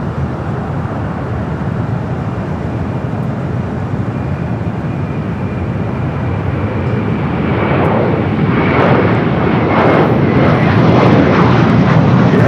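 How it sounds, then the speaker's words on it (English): A Delta Airbus A330neo jet at LAX, its engines giving a steady, loud roar that grows stronger and harsher toward the end as it nears. "Still got that Delta A330 Neo heading up to 24 left"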